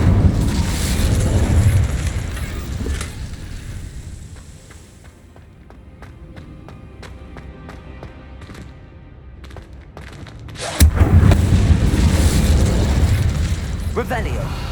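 A loud roaring Incendio fire spell blast in Hogwarts Legacy, a dense burst of flame noise that fades into a quieter stretch of faint clicks before a second heavy whoosh erupts.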